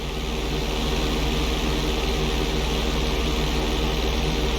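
A propeller airplane engine drones loudly and steadily during a flight school mission in GTA V, a constant low throbbing hum with no change in pitch and no voices.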